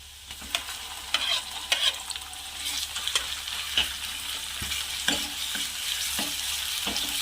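Ground masala paste is stirred into onions frying for a tomato kadhi, making a continuous hiss broken by repeated sharp spoon scrapes and knocks against the pan, close up with no talking.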